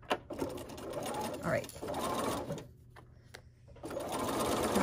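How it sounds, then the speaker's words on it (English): Sewing machine stitching a quilt block through freezer paper, with steady whirring runs of stitches broken by short pauses, close and clear; a voice speaks briefly. "freezer paper when you stitch on the machine"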